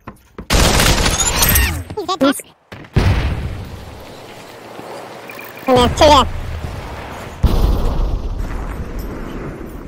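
Gunfire and explosive booms in the VR shooter Population: ONE, loud bursts with a quieter stretch between them, mixed with in-game noise and speech.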